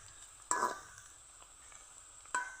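Nimki dough strips being stirred as they fry in a pan: two brief scraping clinks of a utensil against the pan over a quiet, steady background sizzle.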